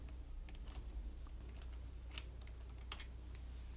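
Keys clatter on a computer keyboard in quick, irregular bursts of typing, fairly faint over a steady low hum, with no voices.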